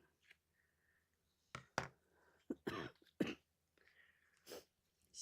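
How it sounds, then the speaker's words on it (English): A person coughs several times close by in a quiet room, short harsh bursts with throat clearing, spread unevenly over a few seconds. "Excuse my cough."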